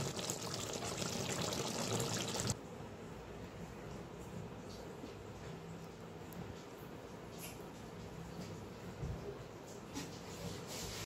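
Water splashes into a pan of simmering bain fish curry, a brief gushing pour at the start, followed by quieter bubbling and faint kitchen clatter.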